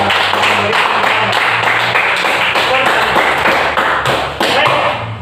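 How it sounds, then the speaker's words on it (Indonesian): A classroom of students clap their hands together, a steady dense patter of many palms held evenly for several seconds, loud and close, with faint thumps and shuffling mixed in. "Kita tepuk tangan dulu bagi yang persentase dan yang memberikan kritikan."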